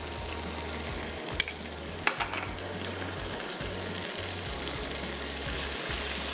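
Garlic-ginger paste and small hot green chilies frying in oil, a dense continuous sizzle close up with a few sharp clicks of a utensil against the pan.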